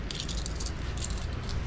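A bunch of house keys jangles continuously at close range for under two seconds, a busy metallic rattle over a steady low background rumble, with no voices.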